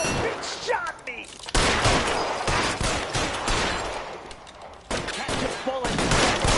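Rapid bursts of gunfire from a PS4 shooter video game, with repeated broadband shots across the whole stretch, loud and close, while voices shout under and between the firing.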